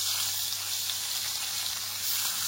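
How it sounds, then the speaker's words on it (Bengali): Fish fries in a pan with a dense, steady hiss and crackle of hot oil, fairly quiet and continuous, with no voices over it. "আর এবার মাছটা ভেজে নেব"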